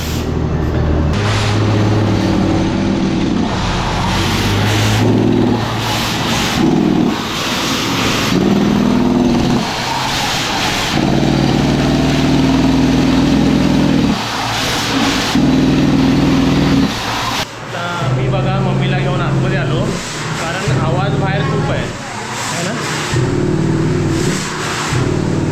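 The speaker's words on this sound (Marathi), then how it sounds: "सर्व गाडी स्टार्ट झाली आहे आणि आपली प्रोसेस चालू झाली आहे." A borewell drilling truck's engine runs loud and close without pause, its heavy mechanical drone rising and falling in rhythmic surges, with no voices over it.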